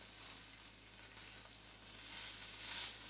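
Prawns stir-frying in a hot pan give off a steady, bright sizzle that holds evenly throughout and swells slightly near the end, with no one talking.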